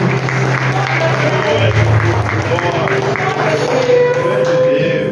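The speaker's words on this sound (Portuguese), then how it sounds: "Aplauda o nome do Senhor Jesus." A church congregation applauds in a steady, dense wash of clapping that runs the whole time, with a voice and musical tones carrying over it.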